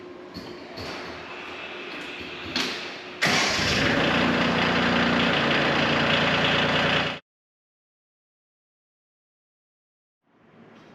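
A Bobcat compact track loader's engine runs steadily and loud for about seven seconds, getting louder partway through, then stops into silence before a faint sound returns at the end.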